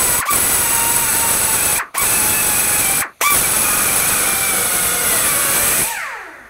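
A power tool cuts into a driveshaft center bearing race on a 1999-2006 Chevrolet Silverado 1500. It whines steadily and loudly, stops briefly twice, then winds down at the end.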